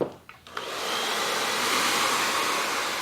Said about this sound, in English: So as you diffuse the hair, make sure that you're using a medium heat and a medium strength.